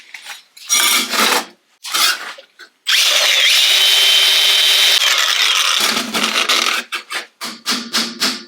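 Steel being ground on the A-post of a 1969 Triumph GT6 Mk2 under restoration, in short rasping bursts, then a long sustained grind, then a run of quick choppy pulses, close and loud with no talk.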